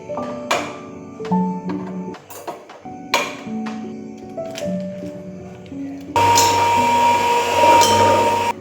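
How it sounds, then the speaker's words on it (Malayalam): Electric mixer beating butter until it turns from yellow to white, a steady loud whirring motor that starts abruptly after a stretch of clinking and tapping. "ആ ഒരു യെല്ലോ കളർ മാറി ഒരു വൈറ്റ് ആവുന്നത് വരെ ബീറ്റ് ചെയ്തിട്ട് എടുക്കും"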